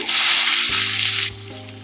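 Loud hiss of chopped onions hitting hot oil after mustard seeds, a burst of frying that drops to a quieter sizzle over a low background hum.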